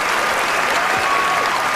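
Applause from an audience giving a standing ovation after a film, a brief wash of dense, even clapping with a faint murmur of voices beneath.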